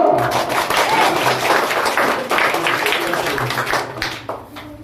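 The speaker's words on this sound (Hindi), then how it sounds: "ताली से बजा दो" Audience clapping after a boy's yoga wheel-pose demonstration at a gurukul gathering, a dense burst of hand claps from a nearby crowd that holds for a few seconds, then fades out toward the end.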